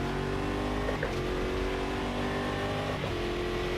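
Race car engine in the Automobilista 2 sim racing game at Suzuka in rainy conditions, a steady droning note that holds a constant pitch with slight shifts, quiet in the mix and without talk.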